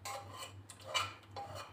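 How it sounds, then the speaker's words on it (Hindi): A spoon mashes soft, well-cooked dal in a cooking pot, producing quiet, repeated scraping and squishing strokes at close range. "हम इसे थोड़ा सा इस तरह से मैश कर देंगे अपने चमचे से"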